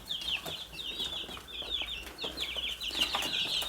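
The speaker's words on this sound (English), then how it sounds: "so these are my 2 weeks old broiler chicks." Two-week-old broiler chicks on a farm in Kenya keep up a steady, overlapping chorus of high peeping, close and fairly loud, with no talking.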